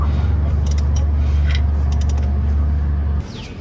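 Engine turned over by hand with a crank during a rebuild, a steady close mechanical ratcheting and creaking with faint metallic clicks, then a sudden drop in level as the cranking stops.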